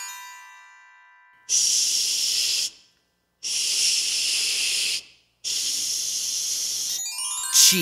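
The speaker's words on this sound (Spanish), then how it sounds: "Chitar." Three long, steady shushing hisses, each about a second or more, separated by short silences; close and fairly loud, no talking.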